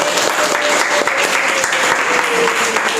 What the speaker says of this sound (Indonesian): Ya, tepuk tangan dulu buat kelompok 6.